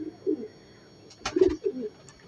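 Pigeons coo in short low bursts, several soft rounded calls spread across the moment, fairly close and moderately quiet, with a brief rustle between them.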